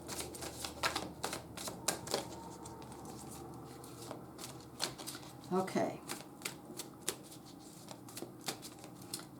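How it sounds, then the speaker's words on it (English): Tarot cards are shuffled by hand in quick, crisp riffling patters and taps, close and fairly soft, with a brief spoken word in the middle. "I'm going to give it another shuffle"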